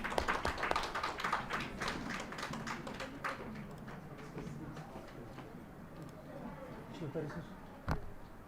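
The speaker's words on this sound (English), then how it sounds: "Everybody please give a round of applause." An audience at a university civil engineering department felicitation ceremony claps for several seconds, loud at first and slowly thinning out, ending with a single sharp knock.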